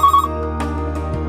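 A telephone rings for an incoming call on a Hindi call-in program: a short, loud electronic ring tone opens, followed by a steady humming tone with faint clicks.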